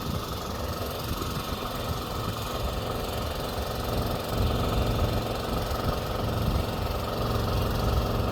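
A Honda engine drives a hydraulic pump that raises a trailer's jacks, giving a steady, close mechanical drone with a constant idling rumble that thickens slightly partway through.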